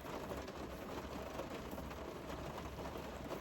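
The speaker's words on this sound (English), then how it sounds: "occasionally you could hear the rain really pick up over the sound of the TV" Heavy rain outdoors, heard from indoors with a TV playing: a faint, continuous patter and hiss that holds steady without any break.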